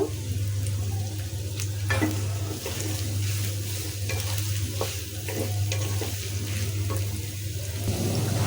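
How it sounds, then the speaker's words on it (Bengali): Onions frying lightly in a pan for a shrimp bhuna, a steady close sizzle with occasional stirring scrapes throughout, no voices. "পেঁয়াজটা একটু হালকা ভেজে নিব"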